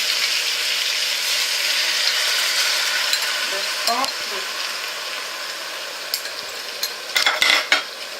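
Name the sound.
stirring food in a saucepan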